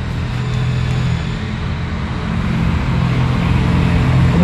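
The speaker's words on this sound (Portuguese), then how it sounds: "O maior problema aqui é o barulho dos caminhões." Steady low rumble of passing trucks and road traffic, a continuous broadband roar with strong low-end weight that swells slightly toward the end, no voices over it.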